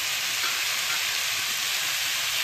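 Paneer bhurji of grated cottage cheese frying in a pan: a steady, loud, close hiss of sizzling that continues without a break, with no voices.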